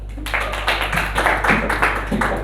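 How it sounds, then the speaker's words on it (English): A classroom audience claps to welcome a student presenter, giving a short burst of uneven, close hand claps over a low steady hum. "Let's welcome her with a big round of applause."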